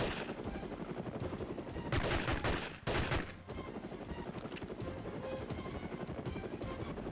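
Game rocket launchers fire amid a dense stream of rapid gunfire-like blasts, with two loud, sustained bursts around the middle standing out over constant clattering combat noise.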